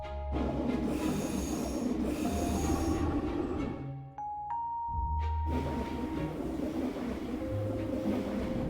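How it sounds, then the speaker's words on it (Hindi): A train pulling into a railway station, with a loud rumble of rolling cars and high squealing wheels, a short drop in level partway through, and then heavy rolling noise again up close. "इतने में उनकी ट्रेन वहां पर आ जाती है।"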